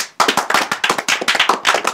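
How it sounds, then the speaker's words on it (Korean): A small group claps hands in a dormitory-style room during a Korean school-retreat-style bedroom reveal, a quick run of close, sharp, fairly loud claps lasting about two seconds with no talking. "박수"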